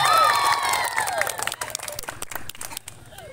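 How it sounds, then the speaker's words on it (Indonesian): A crowd applauds and cheers to welcome a child contestant at a church Bible storytelling competition, with clapping mixed with shouts and children's voices, busy and lively before thinning into scattered claps. "mari kita sambut dengan tepuk tangan"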